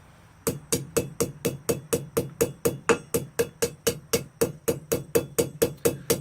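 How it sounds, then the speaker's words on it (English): A blacksmith forges a taper into hot pipe, the hammer landing in a fast, steady run of about twenty sharp metallic strikes that ring close and loud with a low hum underneath. "I'm not necessarily hitting too much harder, giving a little bit more oomph, but I am going to go a little faster."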